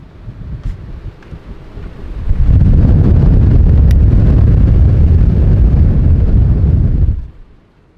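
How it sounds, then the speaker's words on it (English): Strong wind buffets the microphone on high ground at Wind Cave National Park, a soft gusty hiss that swells abruptly into a loud, steady low roar for several seconds before cutting back to a quiet breeze. "You could even feel the wind up here. It's a nice breeze."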